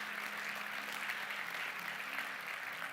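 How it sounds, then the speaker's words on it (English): Church congregation clapping at a Sunday service, a steady distant wash of applause held at an even level throughout, with no voices standing out. "Yes, you can clap."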